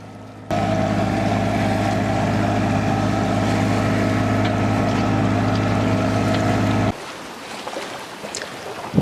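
A sailboat motors out of a harbour and across shipping lanes under engine in little wind, its steady low drone running loud and unbroken before cutting off abruptly, leaving softer wind and water noise.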